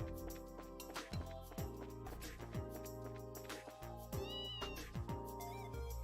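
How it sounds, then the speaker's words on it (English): A cat meows in the video game Trails in the Sky FC, a few short mews over steady game music with plucked notes, fairly quiet and without speech. "Ah, good cat."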